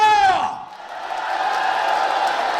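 After a brief tonal voice at the start, a crowd at a Korean book-launch talk show erupts into loud, sustained cheering and shouting that swells and then holds as a broad roar.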